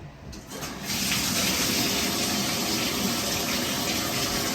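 Water rinsing conditioner out of hair, a loud continuous gushing stream that swells up within the first second and then runs steady and close.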